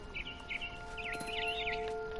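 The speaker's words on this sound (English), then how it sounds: "Then I heard chirping outside my window. Oh. It was a barn swallow going back to her nest." A barn swallow in the game What Remains of Edith Finch chirps outside a window: a quick run of bright warbling twitters over a faint steady hum, close and clear with no talking.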